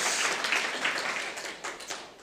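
A lecture audience claps for the speaker in a fairly faint, dense patter of applause that tapers off slightly over a couple of seconds.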